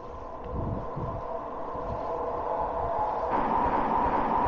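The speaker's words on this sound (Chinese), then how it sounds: "这就是 Sky Train 啊" A five- or six-car Vancouver SkyTrain passes on its elevated track above a Burnaby street as a rising, steady rumble and hum, partly blended with wind buffeting a microphone during a bike ride.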